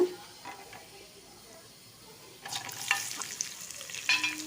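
Sizzling in a pan, quiet at first, then a louder burst of frying and hissing as chopped onions are added to oil for red poha pulao, with light stirring scrapes.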